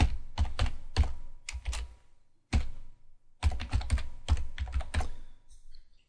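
Email address and password being typed on a computer keyboard, close and distinct: bursts of rapid key clicks split by short pauses, a clear gap near the middle, then a longer run of fast typing.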